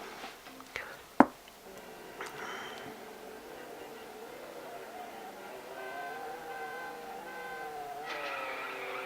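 At the start of a drag race in the mobile game CSR Classics, a race car's engine revs and rises in pitch over several seconds after a sharp click. Someone talks quietly over the low, building engine note.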